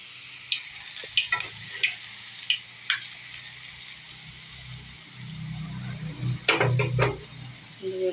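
Potato fritters frying in oil in a karahi, a soft sizzle with scattered light clicks and taps of utensils, close and moderate, with a slightly louder burst of activity near the end.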